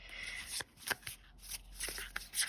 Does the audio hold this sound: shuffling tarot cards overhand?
yes